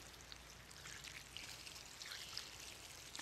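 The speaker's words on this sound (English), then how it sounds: "Water it in real good." Water from a watering can splashes steadily onto a squash plant bedded in pine straw, a soft continuous pouring and trickling patter close by that lasts throughout at low level.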